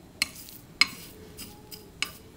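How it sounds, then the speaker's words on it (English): A few sharp, quiet crackles and pops spaced irregularly over a low, steady hiss: cumin seeds spluttering in hot oil nearby while cooking South Indian rasam. "you also hear crackling sound from the jeera"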